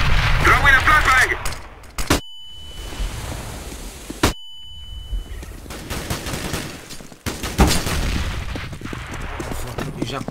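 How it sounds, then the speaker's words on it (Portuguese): Flashbang grenade in a CS:GO competitive match: two sharp, loud bangs, each followed by a high ringing tone, mixed with gunfire and game noise, with players talking in between. "Throwing a flashbang!"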